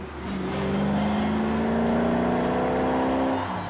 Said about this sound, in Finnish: tuon mahtavan voimanlähteen möyryäminen